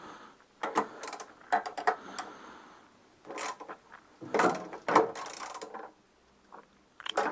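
Wrench being tightened on a Citroën 2CV in a home garage, a series of short metallic clicks and ratcheting bursts in uneven clusters, fairly close with quiet pauses between.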